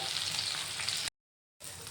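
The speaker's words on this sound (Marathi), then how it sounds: "तेलामध्ये ठोसराचा लसूण बारीक करून घेतलेला आहे तर लसणाची फोडणी देऊन घेऊया" Finely chopped garlic frying in hot oil for a tempering, a dense, even, close sizzle that cuts out briefly to silence for about half a second before resuming just as strongly.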